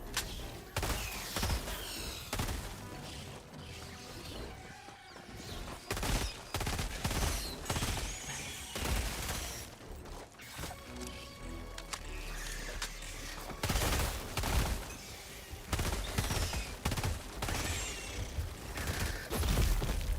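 Rapid bursts of automatic gunfire from a video game weapon being tested, loud and close, with repeated volleys and short pauses between them and mechanical clicks mixed in.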